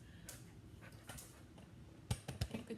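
A dog gives soft, brief whimpers and whines close by, scattered across a few seconds, with a cluster of sharper whimpers near the end over a low background hum.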